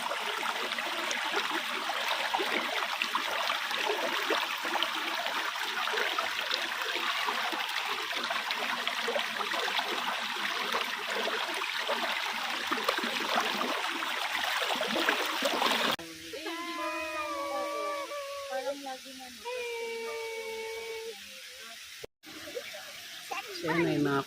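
Waterfall at San Rafael, Montalban, Rizal, a steady broad rush of falling water close by that runs continuously, then drops to a quieter wash where a voice talks over it and other sounds come in near the end.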